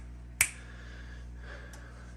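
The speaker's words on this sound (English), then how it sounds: "we go 2 claps or snaps" A single sharp, close finger snap to trigger an aquarium light switch, followed by a fainter second snap, over a low steady hum.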